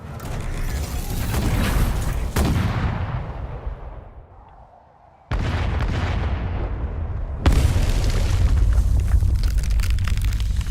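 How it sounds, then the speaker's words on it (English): Heavy booming gunfire and explosions from the game Arknights roll and rumble loudly, then fade almost to silence before sudden renewed blasts and sustained roaring fire return. "The guns continue to fire and the ice continues to crack, sending more miners into the gaping crevices."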